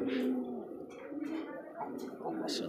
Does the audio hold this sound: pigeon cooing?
yes